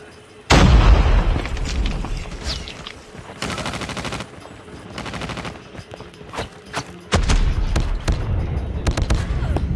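Video game gunfire crackles in loud bursts and rapid automatic volleys, with sharp single shots and distant pops scattered between the heavier salvos.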